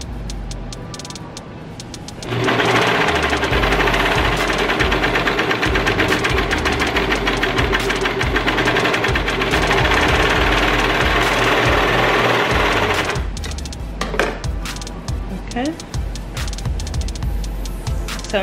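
A serger sewing machine stitches a fabric face mask in one loud, rapid mechanical burst lasting about ten seconds, with quieter handling sounds before and after.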